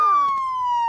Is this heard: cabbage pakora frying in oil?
no